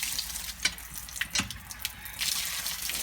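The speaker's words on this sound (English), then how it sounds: "in English I guess you can call it a water well" Water being drawn from a village well in Bangladesh, with several short splashing and sloshing bursts and a sustained rush of water toward the end, fairly close and moderately quiet.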